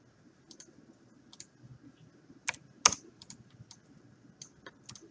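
Scattered keystrokes on a computer keyboard, a dozen or so light clicks at an uneven pace with one sharper tap, close and quiet in a still room.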